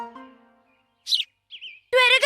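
A cartoon sparrow gives a couple of short, bright chirps, set apart between bursts of animated voices talking before and after.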